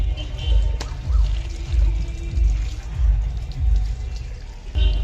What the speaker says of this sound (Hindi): हाँ, ठंडा ठंडा पानी आ रहा है, बड़ा मज़ेदार।